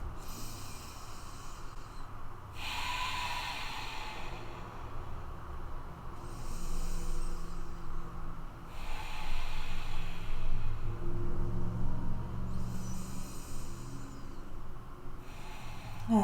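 Slow, deep breaths during a held yoga pose, each airy inhale and exhale about four seconds long, repeating evenly and close over a quiet background.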